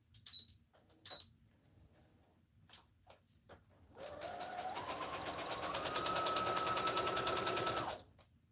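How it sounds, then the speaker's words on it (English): A sewing machine runs a straight stitch, starting after a few soft clicks and taps and whirring steadily at close range for about four seconds before stopping, with a rising motor tone as it speeds up. "Let me do the straight stitch right quick."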